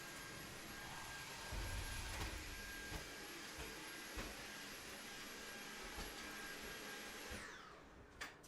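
A vacuum cleaner drones loudly and steadily in a room, a continuous whining motor hum with small bumps, then the motor winds down and cuts off near the end.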